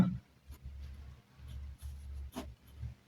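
A formula handwritten on paper, heard as soft, intermittent scratchy strokes in short bursts with brief pauses between them, quiet and close.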